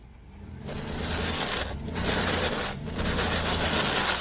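A vehicle engine revs under throttle while pulling a stuck vehicle sideways with a short strap on a frozen mountain road, a loud, sustained rumble that swells and dips, with no talk.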